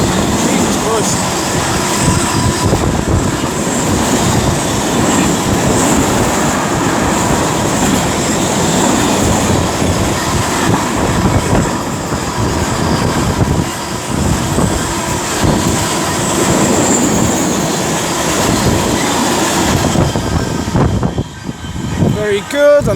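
Locomotive 66092 hauls a train past on the West Coast Main Line at Rugeley Trent Valley, a loud sustained roar and rumble of wheels and wagons that fades near the end, with a voice under it.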